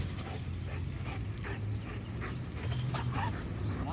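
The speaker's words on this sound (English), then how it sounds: "One bark. That's what I need, my boy." Cane Corso dog during bite work gives short barks and whimpering yips up close, over steady background noise and an intermittent handler's voice.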